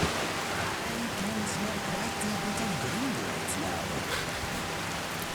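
Steady hiss of rainfall with occasional faint drips in the modded video game Skyrim, a voice talking quietly underneath.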